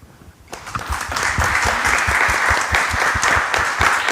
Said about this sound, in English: applause to this distinguished panel